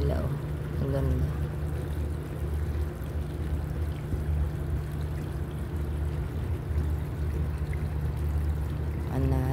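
Continuous rushing of water flowing through a channel, a steady broad wash near the listener with faint voices speaking over it at times.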